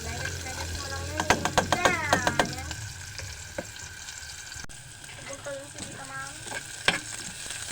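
Onion and garlic sizzle in a pan, with scraping and clattering stirring strokes over a steady frying hiss, while a person talks over the cooking.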